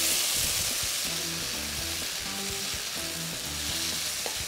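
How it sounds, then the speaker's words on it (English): Tofu fries in hot oil in a pan with a loud, steady sizzle, and rhythmic scraping thuds of stirring sound close by. "Bit of oil and then your tofu goes in."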